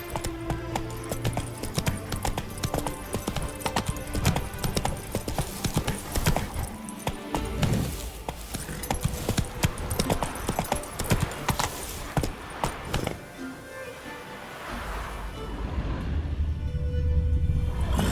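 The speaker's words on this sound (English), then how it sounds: "Whoa there, Roach" Horse hooves clip-clopping in The Witcher 3: Blood and Wine video game, a continuous quick trotting rhythm over game music and ambience that slows and eases off near the end.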